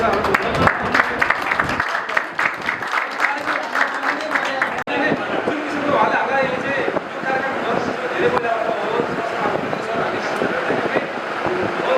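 An audience at a drone training event claps in a dense, sustained round of applause, with voices mixed in and some wind noise on the microphone.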